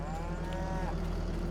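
Cows moo in the Farming Simulator 22 video game, a drawn-out, close bovine call rising over a steady low hum of farm machinery.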